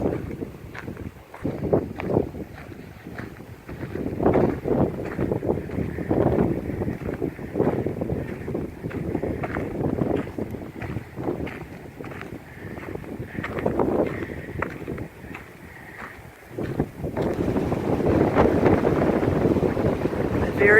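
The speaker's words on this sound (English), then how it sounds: "Very, very windy here." Strong wind buffets the microphone on a beach, a steady roar with gusty surges that swell louder toward the end, and faint voice-like sounds flicker within it.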